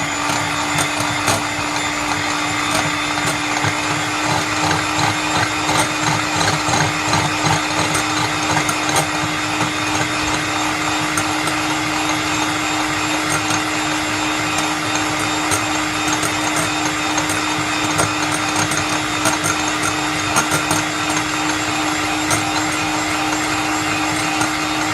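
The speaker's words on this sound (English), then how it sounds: "we praise the gods of technology for having a mixer and not having to do this by hand" An electric mixer whips eggs for a soufflé omelet, a steady, loud motor whine holding one constant pitch for the whole stretch, with faint rattling of the beaters against the bowl.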